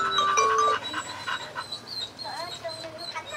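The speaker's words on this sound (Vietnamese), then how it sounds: "Nó đang rít nó chào ấy." A chained male bobtail dog whines and whimpers close by in greeting, a thin high-pitched cry that rises and falls over steady panting, with a voice in the background.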